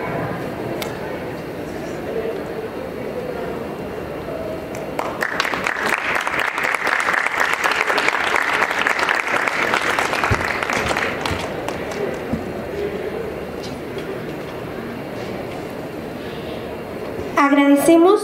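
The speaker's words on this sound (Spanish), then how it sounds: "Por favor, les despedimos con un fuerte aplauso." An audience at a medical conference panel breaks into a strong round of applause lasting several seconds, rising out of murmuring voices and settling back into talk afterward.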